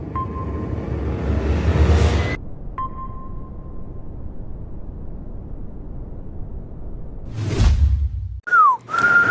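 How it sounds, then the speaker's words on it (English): A woman practices whistling in a radio studio: a thin steady whistled tone, a short pause, another held note, then a quick falling glide into a final tone, between bursts of breathy noise. "She's practicing her whistle right now."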